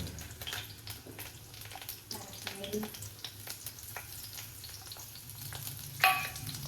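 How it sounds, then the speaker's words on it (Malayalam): Onions fry in oil in a cheenachatti, a wok-like pan, as the base for a spinach thoran. A soft, steady sizzle runs under repeated scraping stir strokes, with a sharper metallic clank near the end. "അപ്പൊ നമ്മള് ഇവിടെ ഉള്ളി ഇതാ തൂമിക്കാണ് കേട്ടോ. എണ്ണയിലിട്ടിട്ട് ഉള്ളി തൂമിക്കാം."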